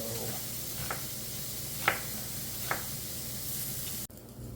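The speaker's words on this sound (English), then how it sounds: "we've cooked the pork about 3/4 of the way through, maybe a touch more" Pork sizzles quietly in a pan with a soft steady hiss, broken by a few light scraping stirs, then the sound drops abruptly near the end.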